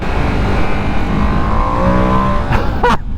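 A 2025 Ducati Panigale V2S motorcycle accelerates with a rising, loud engine tone, ending in a couple of sharp rapid revving bursts.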